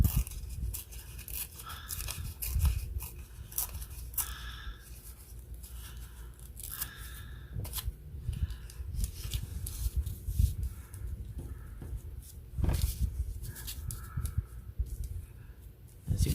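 Paper torn by hand to make a flap for a handmade journal envelope, a series of short rough rips and crinkles, close and fairly quiet, repeated over several seconds with no talk.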